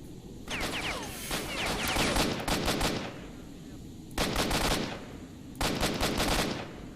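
Automatic gunfire from STALKER: Shadow of Chernobyl, loud bursts of rapid shots in three separate volleys, with short pauses between them and a steady background drone.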